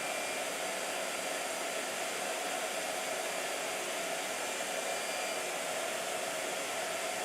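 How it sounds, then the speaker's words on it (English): A blow dryer runs loud and close, a steady unbroken whooshing roar with a constant whine and no pauses or talk. "All right, blow dryer."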